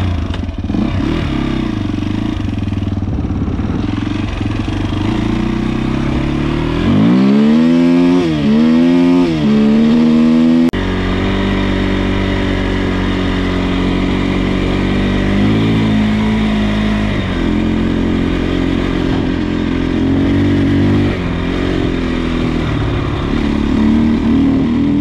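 A KTM 250 EXC-F four-stroke dirt bike is ridden off-road, its engine loud and close, revving up and down and rising in pitch through gear changes, with clattering over rough ground.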